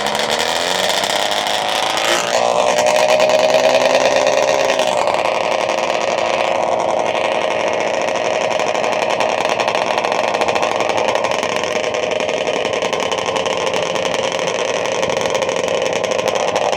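Vintage snowmobile engine idling at a show, a loud, steady mechanical drone that shifts pitch briefly early on before settling into an even, continuous run.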